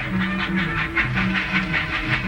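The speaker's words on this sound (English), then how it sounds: "Come on, the train's going." A steam train rumbles and hisses as it pulls away from a platform, a steady close clatter with rhythmic chuffing throughout, in a 1950s television drama; no one speaks.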